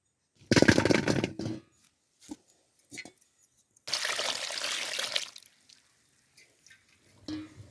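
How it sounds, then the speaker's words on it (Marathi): Bursts of splashing water come and go as lemons are washed, a long rinse and a second one with small drips and clatters between, close by with no voices. "आता आपण या दोन पाण्याने धुवून घेऊ"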